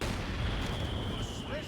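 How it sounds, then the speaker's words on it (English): A mortar pit fires during a 4v4 Company of Heroes 2 match, producing a heavy, sustained low rumble of indirect artillery with a thin high whine, while a voice faintly talks underneath. "Those mortars are decimating the axis right now."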